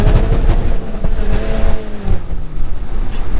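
A Volkswagen Golf Mark 5 GTI pulls away in first gear. The engine note rises in a loud, close drone mixed with heavy wind buffeting, and no one speaks.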